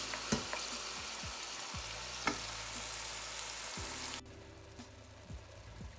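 Onion and bell pepper frying in a pan for spiced rice give off a soft, steady sizzle with a few stirring clicks. The sizzle quietens partway through.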